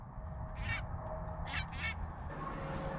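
A flock of geese honking and calling as they fly in over a hunting spot, several short bursts of calls at middle distance against a steady low rumble of wind or background noise.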